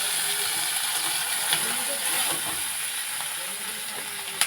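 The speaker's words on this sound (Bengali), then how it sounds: "কড়াতে দিয়ে দিয়েছি অল্প সর্ষের তেল, চিংড়ি মাছ কোটা ভেজে নেব।" Chopped shrimp fry in a little mustard oil in a wok, giving a steady, bright sizzle and hiss that carries on unbroken, close and fairly loud, with a small clink near the end.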